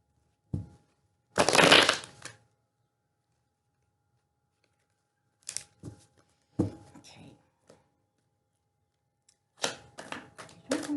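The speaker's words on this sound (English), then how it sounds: "give these things a little shuffle" Tarot cards shuffled in a few separate bursts of riffling and slapping, close and crisp, with quiet gaps between.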